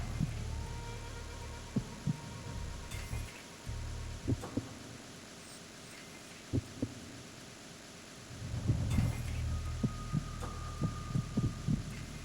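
A heartbeat plays while scanning in the video game Metal Gear Solid 2. Soft, regular low thumps repeat over a steady electronic hum, with a brief change in the background partway through.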